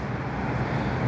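Busy city street traffic at Kensington Road and 14th Street in Calgary, a dense, continuous roar of passing vehicles with wind buffeting the microphone, loud and close.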